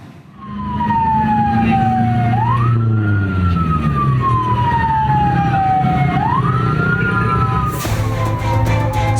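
A fire engine's wailing siren sounds near and loud over rumbling traffic, sweeping down and back up in slow cycles while crews respond to a box truck burning in front of a minimarket in Bojong village, Magelang, Central Java.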